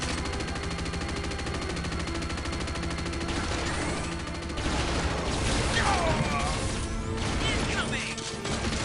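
Dense, continuous gunfire and blasts from the flak cannon in the PC game Unreal Tournament fill a close-combat match, loud and rapid, with crashes and game effects layered throughout.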